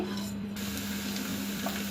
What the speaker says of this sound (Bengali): আধা কাপ পরিমাণ তেল দিয়ে নিচ্ছি তেলটা হালকা একটু গরম হয়ে আসলে এবার আমি দিয়ে দিচ্ছি পাঁচ থেকে ছয়টা পেঁয়াজ কুচি এবং দুইটা রসুন কুচি